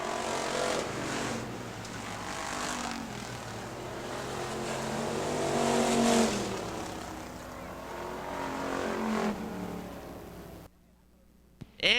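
Factory stock cars race around a speedway track, their engines a steady, fairly distant roar that swells and fades as the field passes, with crowd and PA noise mixed in before the sound cuts out near the end.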